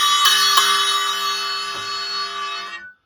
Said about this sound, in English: I also have one of their accent cymbals